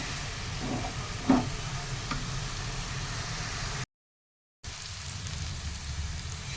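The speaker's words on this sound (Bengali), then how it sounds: "লাল শাক ভাজি আমি স্টার্ট করে দিয়েছি।" Red spinach (lal shak) fries in a pan with a soft, steady sizzle and faint stirring clicks, quiet and close, broken by a brief stretch of silence.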